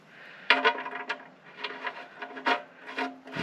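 A rag scrubs around the oil drain plug of a Volvo 164e in a garage, giving short rubbing and scraping strokes in an irregular rhythm, close and fairly quiet.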